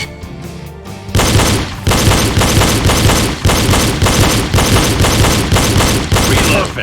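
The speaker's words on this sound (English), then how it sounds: "Shoot targets with the double tap technique." Pistol shots ring out in a double-tap target shooting drill, loud and close, coming as sharp repeated bursts at a steady pace after a brief quieter opening.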